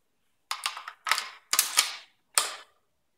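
The safety selector on an FN PBR XP .308 rifle is switched, giving four close, sharp metallic clacks and rattles in quick succession.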